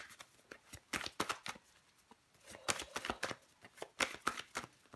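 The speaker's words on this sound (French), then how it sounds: "Je vais recouvrir des cartes tout de suite." Tarot cards flipped and turned over on a surface, a quick run of close, crisp papery slaps and snaps in uneven bursts with brief pauses, fairly quiet overall.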